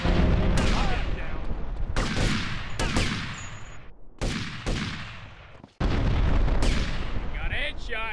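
Gunfire in GTA Vice City on PC, loud repeated shots in several dense bursts with short gaps, booming echoes and police radio chatter in the background.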